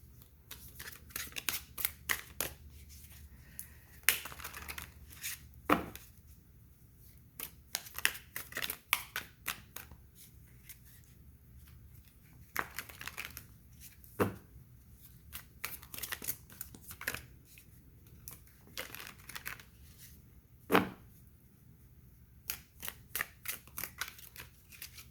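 Tarot cards being flipped and shuffled by hand on a table, a string of quick, close card snaps and soft rustles with a few sharper slaps, with no talking.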